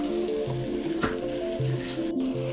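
Spices are stirred back and forth in a hot pan for Cajun dirty rice, giving a steady soft sizzle with a brief scrape partway through, close and continuous.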